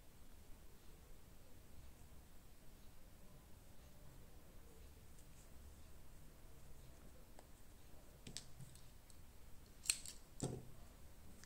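Scissors snip thread while a hair clip is being made, a couple of faint, brief cutting clicks near the end over quiet background hiss.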